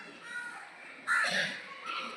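Crows caw outdoors, one loud harsh call standing out midway and a softer call following, set against faint background noise.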